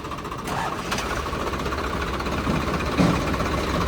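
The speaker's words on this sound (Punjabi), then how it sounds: "ਚੱਲ ਕੱਢ ਟਰੈਕਟਰ ਬਾਹਰ" A Swaraj 855 tractor engine runs steadily at a low, even idle with a faint knocking pulse, close and continuous throughout without any talk.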